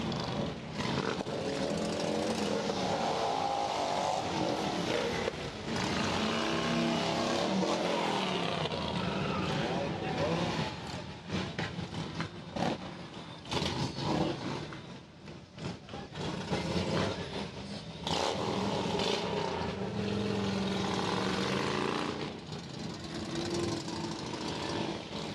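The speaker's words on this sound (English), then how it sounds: "this is the Roughnecks, one of the motorcycle groups that's in, and they're letting Knoxville know they're in town" A group of motorcycles riding through the streets of Knoxville at a veterans' event, engines revving in a loud, continuous, rough roar that dips briefly before surging again.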